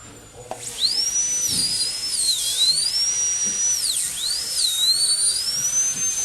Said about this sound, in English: I'm going to run this burr underneath the gingiva so that it will flake off and expose the margin